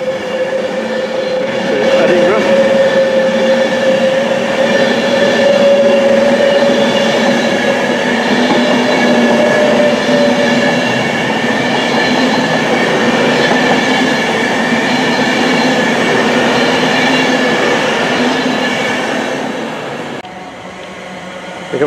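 A Class 390 train, unit 390-130, runs through Telford Central station with a loud, sustained rumble and rail hum, a tonal whine sliding over the first half, then fading near the end.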